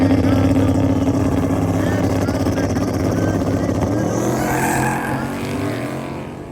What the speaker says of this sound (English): Tires spin on both sides, the Camaro trying to make chase.